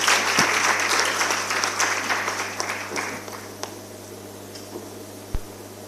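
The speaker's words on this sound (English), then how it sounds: "Let's clap as she goes." Conference audience applauding in a hall, a dense burst of many hands clapping that starts loud and gradually thins out to a few scattered claps over several seconds.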